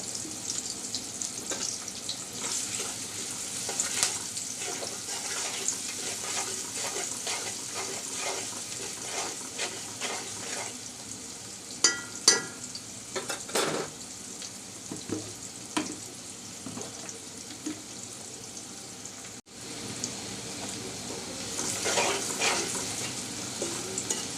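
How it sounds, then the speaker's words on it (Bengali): Onions sizzle and crackle steadily in a hot pan, with scraping stirs and a few clinks of a utensil, no voices. "পেঁয়াজটা নরম ভাজা হয়ে এসেছে"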